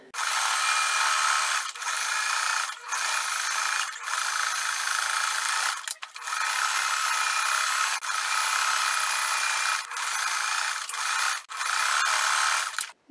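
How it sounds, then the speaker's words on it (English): A sewing machine stitches a quilt block in rapid, steady bursts of mechanical whirring, broken by short pauses between runs. The sound is close and fairly loud, with no talking. "I can sew on the inside without hurting myself."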